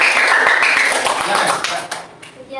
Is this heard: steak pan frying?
no